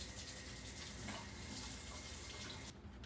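Hands washed under a running kitchen tap, a close, steady gush of water splashing into a sink for about three seconds before it cuts off.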